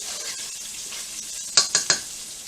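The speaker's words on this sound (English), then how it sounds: "And as you can hear, my sausage is already cooking already." Sausage frying in a pan gives a steady sizzle, with three sharp clatters of a utensil stirring or scraping near the end, close by and with no voice.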